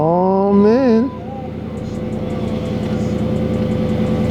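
A big Hemi car engine with 189,000 miles fires up with a rising whine, then settles into a loud, deep, steady idle rumble close by.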